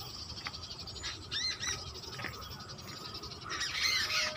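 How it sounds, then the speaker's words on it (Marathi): Sparrows chirp in a tree near water and dense weeds and grass, with scattered short calls through the clip and a denser burst of bright chirping near the end over a steady outdoor background. "चिमण्यांचा किलकिलाट"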